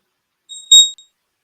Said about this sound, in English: shouldn't beep anymore